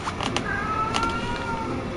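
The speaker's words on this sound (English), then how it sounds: "Do you hear the cat?" A cat meows in the Elden Ring video game, a few short high cries over game ambience and background noise, moderately loud with no speech.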